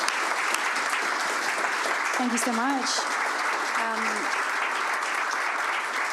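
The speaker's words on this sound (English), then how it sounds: "Can we get a round of applause for these three?" An audience applauds loudly and continuously, a dense wash of clapping throughout, while a voice speaks briefly over it.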